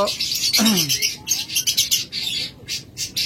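Fischer's lovebirds, including lutino birds, chirp and squawk in rapid, shrill bursts, several calling close by with short pauses between calls.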